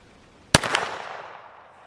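A single sharp report from a Trailblazer LifeCard .22 single-shot rifled pistol fired at close range outdoors, one loud crack followed by a short fading echo, with no talking.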